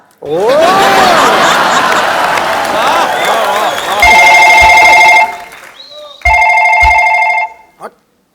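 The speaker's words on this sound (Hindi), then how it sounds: "भाभी का जो फोन बज रहा है वो भी तो उठाना चाहिए" Telephone ringing in two electronic trilling bursts, loud and close, following a stretch of a studio audience laughing and cheering, with a short pause between the rings.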